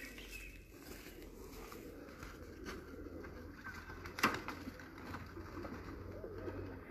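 Pigeons cooing softly in a loft, low murmuring coos over faint background noise, with one brief sharper rustle partway through.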